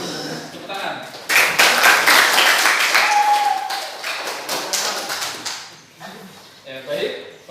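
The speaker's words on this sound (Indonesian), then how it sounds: "Oke, bagus. Tepuk tangan." A classroom of students claps at the end of a lesson, a burst of dense, close applause that swells and then tapers off, with voices around it.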